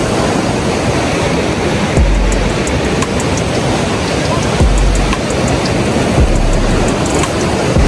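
Ocean surf at Bombinhas beach makes a steady, loud, unbroken roar of breaking waves. Occasional deeper low swells rise beneath the wash of water.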